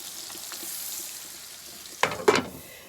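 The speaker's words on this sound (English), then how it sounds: "Nice and bubbly. Give it another little stir." Potato and leek soup simmers gently in a pot, a low steady bubbling hiss, then two quick spoon-stirring scrapes close together near the end.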